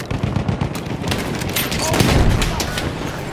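Continuous close gunfire in Battlefield 1, rapid automatic bursts layered with distant booms, with a voice talking over the shooting.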